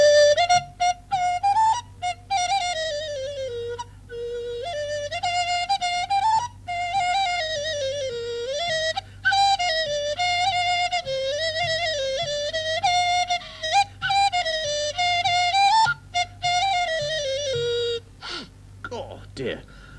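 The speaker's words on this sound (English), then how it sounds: "But I did come across this Chinese nose flute." A Chinese nose flute played through the right nostril gives a breathy, wavering whistle-like melody that slides between notes in short phrases with brief breaths, loud and close, with a low steady hum beneath.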